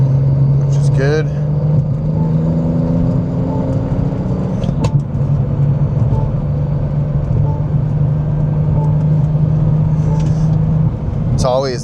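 A BMW G87 on fresh Hoosier slick tires drives slowly around a block. Its engine gives a steady, low drone from inside the cabin, with faint higher whines and a few short squeaks.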